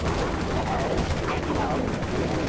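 Steady gunfire from an X-AK47 rifle in the zombie shooter Dead Frontier, a dense continuous rattle of rapid shots lasting a few seconds with no gaps, loud and close.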